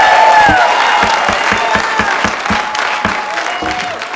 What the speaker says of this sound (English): And people can't hear when you're clapping.